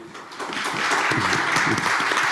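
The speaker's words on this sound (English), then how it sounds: "round of applause, yes." An audience at a group presentation session gives a round of applause, building from a lighter start to a steady, dense clapping, with faint voices underneath.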